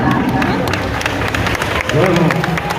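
Temple audience at a Raas Leela for Radha Ashtami at Bankey Bihari Mandir in Vrindavan claps in rhythm along to a devotional duet, steady loud clapping under a crowd murmur and singing voices.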